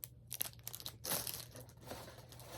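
A plastic bag crinkles and rustles in short, uneven bursts at close range as a full-body silicone reborn doll is pulled out of it. There is no talking.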